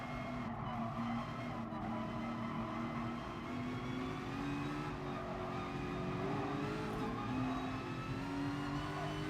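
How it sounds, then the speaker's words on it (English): Race cars in GT Sport brake and skid in a game race, with a steady engine drone, tire scrub and whining gear tones continuing throughout at an even, loud level and no talking. "People are braking so early there."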